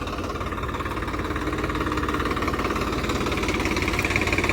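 A Swaraj 744 XT tractor engine runs in a hard-soiled field with a steady, loud, throbbing diesel rumble. The rapid pulsing stays even throughout, close up, with no talk.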